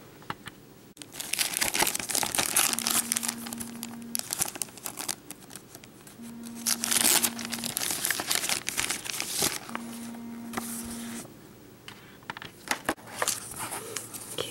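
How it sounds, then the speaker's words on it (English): Close, sustained crinkling and rustling of plastic and cardboard as a taped instruction booklet is slid out from the back of WowWee Mini MIP robot toy packaging, with uneven bursts of scraping over a soft repeating tone. "And on the back, it comes with the instruction book taped underneath. So we'll slide that out."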